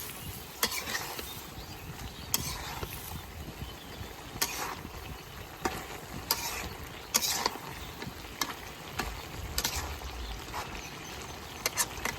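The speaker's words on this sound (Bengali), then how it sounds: "তরকারিটা ভালো করে কষে নিচ্ছি" Vegetable and fish curry being sautéed and stirred in a pan: a steady sizzle and frying hiss broken by repeated scraping, clinking strikes of a utensil against the pan, at an irregular rhythm close up, with no talking.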